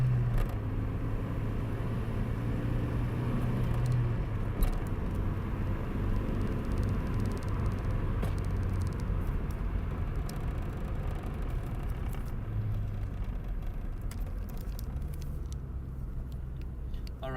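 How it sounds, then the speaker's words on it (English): A car engine drones steadily under load as it pulls uphill in third gear, a constant low rumble with a faint whine rising and falling through the run, and no talk. "do a little bit of uphill third gear pull"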